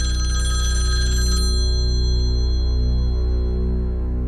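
A home telephone rings loudly and continuously over a steady electrical hum, its bright trilling bell tone carrying on without pause, with no voices present.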